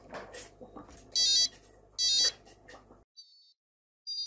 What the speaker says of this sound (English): if it gets above 2000, makes the buzzer alarm